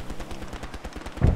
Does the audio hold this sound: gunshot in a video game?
yes